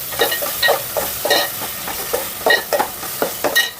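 Onions and ginger garlic paste frying in a pan for egg kurma, close, brisk rhythmic stirring with repeated scrapes over a steady sizzle.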